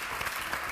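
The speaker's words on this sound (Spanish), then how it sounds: "Un aplauso para Max." Audience applause at a Spanish television show, a short burst of steady clapping heard at moderate volume.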